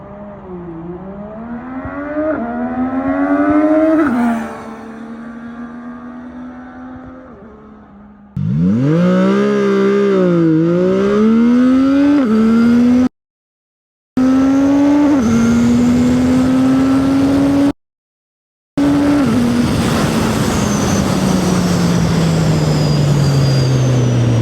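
A CFMOTO 675NK motorcycle with traction control switched off accelerates hard from a standstill to 150 km/h, its engine note climbing loud and close through several gear changes, with two brief dropouts near the end.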